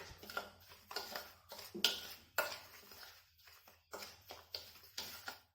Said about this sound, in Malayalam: ഇനി ഈ ഉപ്പും കൂടി ചേർത്ത് നമുക്ക് ഈ മാവ് നല്ലതുപോലെ ഒന്ന് ഇളക്കിയെടുക്കാം